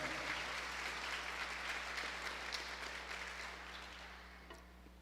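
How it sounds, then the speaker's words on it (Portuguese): A church audience applauds at a sermon, dense clapping from many hands heard from a distance over a low steady hum, slowly fading toward the end. "Eu queria pedir uma salva de palmas pela vida deles"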